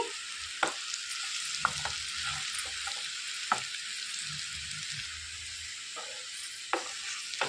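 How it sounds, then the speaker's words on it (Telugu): Capsicum fry tossed with sprinkled spice powder in a hot pan: a continuous close sizzle broken by several sharp scrapes and clinks of a spatula stirring, with no voices. "పైన చల్లేసి ఒకసారి కలిసిపోయేలా తిప్పేసుకోవాలండి"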